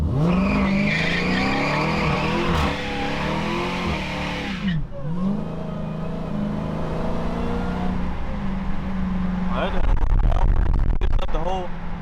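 A Dodge Hellcat Redeye revs loudly and harmonically with a rising, falling engine whine, then launches with a harsh squeal and roar of tires near the end, close and loud throughout, with people talking.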